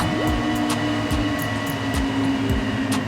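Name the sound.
train running on the railway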